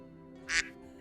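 A burst of duck quacking in a Hakuoki game scene rises briefly midway, loud and bright for a moment over a steady low background hum.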